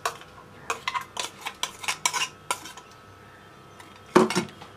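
Spoon clinking and scraping against a bowl while ground masala paste is mixed into raw chicken, a steady run of close metallic taps and clatters with a louder burst near the end.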